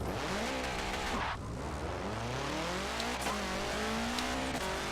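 A VW Type 3 engine bogging down in the Forza Motorsport 7 racing game, a continuous strained drone whose pitch sags, stutters and climbs again in uneven sweeps, loud and close, with no talking.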